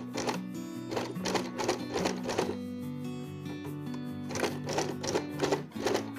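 An Usha Janome sewing machine stitches a buttonhole in rapid mechanical bursts of needle clatter over a steady motor hum, pausing briefly midway before running again, close and clear.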